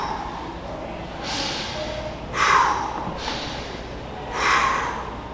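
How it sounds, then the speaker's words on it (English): Three slow, deep breaths in a quiet room, each a soft airy rush swelling and fading over a second or so with pauses between, close to the microphone and alone without talk. "12 minutes to wake up in the morning, take 3 deep breaths"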